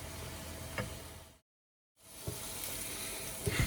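Burgers sizzle and crackle on a Tefal OptiGrill XL, a soft, steady hiss with occasional ticks, broken by a short stretch of complete silence before the frying resumes.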